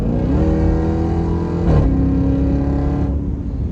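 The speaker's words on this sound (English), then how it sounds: "Love the sound that the Borla Attack exhaust makes in the Jeep Grand Cherokee" A Jeep Grand Cherokee engine rumbles loudly through a throaty Borla Attack exhaust, revving up sharply midway before settling back to a deep, steady drone.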